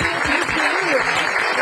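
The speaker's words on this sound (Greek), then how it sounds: "μεγάλο χειροκρότημα τη Μαριαλέτα μας" Brief, dense clapping from an audience greets the young performers of a children's music and dance show, with a voice speaking over the applause.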